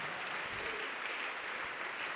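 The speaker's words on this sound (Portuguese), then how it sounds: "E vamos aplaudir mais." A church congregation applauds during a Portuguese-language sermon, a steady wash of clapping heard at a distance and fairly faint, with no one speaking over it.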